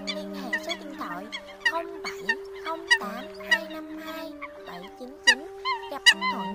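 A recording of coot (sâm cầm) calls gives short honking notes repeated at uneven intervals over a steady sustained tone.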